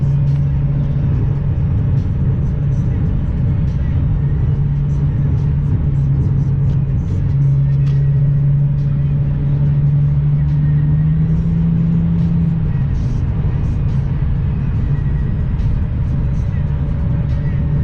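Steady, loud in-cabin drone of a Lexus IS300 with an HKS axle-back exhaust cruising, a low engine hum holding pitch and rising slightly midway, with road rumble throughout and no distinct talk.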